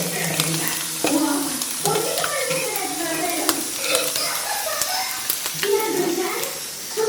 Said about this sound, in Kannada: ಓಕೆ, ಮಮ್ಮಿ ಫಿಶ್ ಫ್ರೈ ಮಾಡ್ತಾ ಇದ್ದಾರೆ ಗೈಸ್.